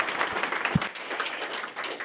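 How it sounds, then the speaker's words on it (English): Applause from a meeting audience after a local representatives panel on drought planning, moderately loud and fairly sparse, with one sharp nearby clap standing out before it thins. "Round of applause."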